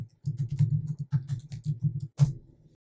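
Quiet keystrokes on a computer keyboard as a Git config command is typed, a quick run of taps, a brief pause, more rapid keys, then one firmer final press.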